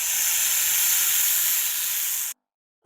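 A snake hisses in one steady, sharp, airy stream for a little over two seconds, then cuts off abruptly into silence.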